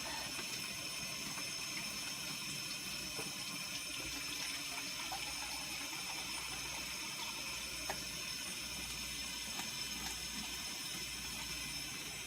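Tap water runs steadily into a measuring cup while cooking homemade spaghetti sauce, a quiet continuous hiss and trickle with no talking.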